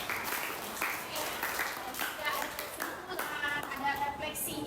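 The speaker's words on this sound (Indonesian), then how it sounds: "kasih aplaus untuk Ida" A class of students claps for a classmate, a loud, continuous patter of many hands lasting several seconds, with some voices mixed in.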